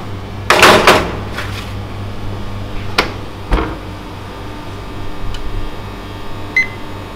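An oven door is opened and shut as a tray of chicken-topped diet bread goes in, giving a rattling clatter, then a couple of firm knocks over a steady low kitchen hum.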